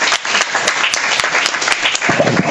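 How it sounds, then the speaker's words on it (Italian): Applause from the audience at an Italian book presentation, a loud, dense, sustained patter of many clapping hands close by that continues without a break for the whole stretch. "un applauso alla casa editrice che ci ha creduto"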